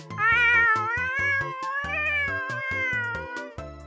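Cat in a visual novel game, a long, loud, tonal meow with a wavering pitch, drawn out for several seconds, close and alone over a soft rhythmic musical backing.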